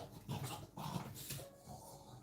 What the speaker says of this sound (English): But it's my dog, he's playing.